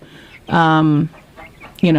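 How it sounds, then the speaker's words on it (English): Hens cluck loudly and close in a backyard chicken coop where a broody hen sits, two drawn-out harmonic calls separated by a short pause, with no one talking over them. "We have a broody mama hen in here."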